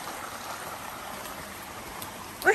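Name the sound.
water dripping from rocks above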